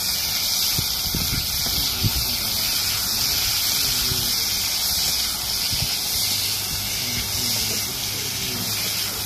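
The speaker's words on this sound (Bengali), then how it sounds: "দেখো আমি সবজিগুলো দিয়ে ভালো করে নেড়ে ভেজে নিচ্ছি।" Vegetables stir-frying in oil in a wok, a continuous loud hiss and sizzle with occasional scraping of stirring, steady throughout.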